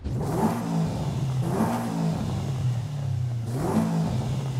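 A 2-liter flat-four turbo engine swapped into a car in Forza Horizon 5 revs loudly and steadily, its burbling drone swelling in three repeated throttle blips with no talking over it.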